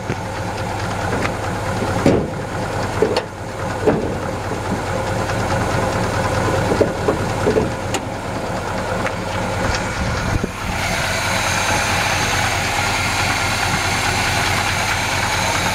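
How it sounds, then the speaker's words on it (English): A 1966 Chevrolet Impala engine idles steadily under the raised hood, a close, continuous low rumble with occasional sharp knocks and clicks, its tone brightening slightly toward the end. "Engine runs nice and clean."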